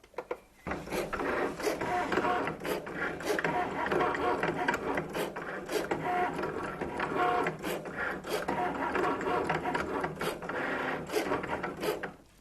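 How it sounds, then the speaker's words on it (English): A Cricut cutting machine slices a felt and vinyl design, giving a steady mechanical whir with regular ticking clicks as the carriage shuttles back and forth, loud and close with no talking. "we're ready to load that into our Cricut machine and cut out our design"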